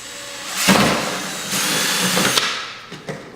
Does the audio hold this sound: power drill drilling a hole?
yes